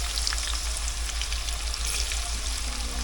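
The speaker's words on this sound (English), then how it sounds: "I'm gonna cut that heat down a little bit now that we got it all sizzling" Low-carb keto jicama fries with seasoning salt sizzle in a small frying pan over lowered heat. The frying crackles in a steady, close hiss throughout, with no voices.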